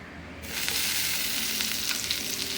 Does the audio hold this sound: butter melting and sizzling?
yes